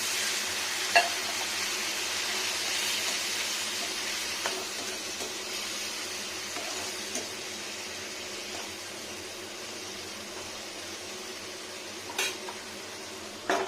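A pan of egg masala curry sizzles quietly and steadily after a splash of water goes in, with a soft continuous hiss and a few light clinks of a utensil against the pan.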